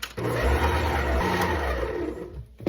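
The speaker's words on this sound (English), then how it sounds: "let's start mixing this in our blender till well incorporated." Kitchen blender whirring as it mixes softened butter for cookie dough, starting abruptly and running as a loud, steady motor whine with a rough churning texture, then stopping near the end.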